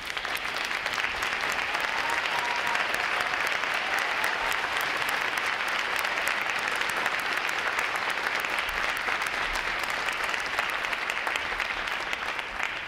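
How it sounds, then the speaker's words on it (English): An audience applauds veterans standing at a U.S. Navy Recruit Training Command graduation ceremony. The clapping is steady, dense and sustained for about thirteen seconds, with no talk over it. "Will all the veterans please rise for a quick round of applause."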